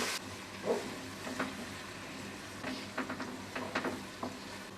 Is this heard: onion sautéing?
yes